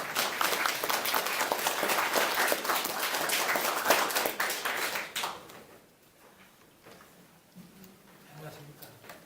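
Loud, dense applause from an audience at a forum on unreturned prisoners of war, lasting about five seconds before dropping off abruptly, followed by quiet room noise and a faint voice.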